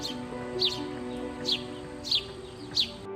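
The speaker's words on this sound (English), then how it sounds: "These birds were caught on trail cam while chirping and enjoying a sand bath in the middle of the woods." Small birds in a woodland clearing chirp while dust-bathing in sand, with four short bright calls spaced about a second apart over a steady, quiet outdoor background.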